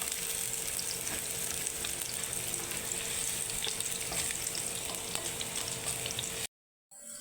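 Onion and garlic sauté in a pan with a steady, soft sizzle and faint stirring, then a sudden brief silence near the end.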